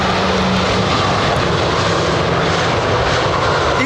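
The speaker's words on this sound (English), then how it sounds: "That's a long landing." An airliner lands on runway 27R at London Heathrow, a loud, steady roar of engines and rushing air that holds constant throughout, close and without talk.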